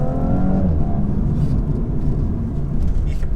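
A 2017 Audi S4 driving down a narrow B road, engine note rising briefly then settling into a loud, steady cabin rumble of road and tyre noise, heard from inside.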